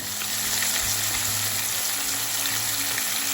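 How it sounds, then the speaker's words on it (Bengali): Turmeric-and-salt-coated fish fries in a pan, a loud, steady hiss and crackle of hot oil that runs unbroken throughout with no talking. "এখন মাছটা ভেজে নিলাম"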